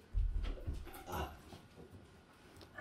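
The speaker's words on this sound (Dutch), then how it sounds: "Waarom moet je zo blaffen, Don?" Dog at home giving a few low, muffled barks and whimpering vocalizations early on, then quieter rustling, fairly close but faint overall, with no talk.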